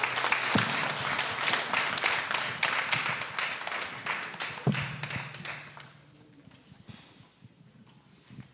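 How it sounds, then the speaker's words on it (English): An audience at a graduation gala applauds as a guest comes to the stage, with a dense burst of clapping that gradually thins and fades. "So a round of applause for him."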